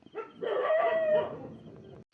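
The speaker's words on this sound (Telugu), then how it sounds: "కోడి అయితే దాంట్లో నుంచి పోయింది కానీ దాని కిందే ఉందని" A chicken in a village yard gives a single loud, drawn-out call lasting over a second, close by, with faint scratchy sounds before it and quiet afterward.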